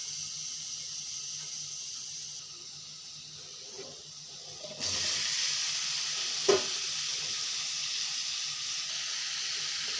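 Vegetable vine shoots with spices frying in a pan, a steady sizzle and hiss that swells louder midway as more goes in, with a brief stir knock, close by and no talking.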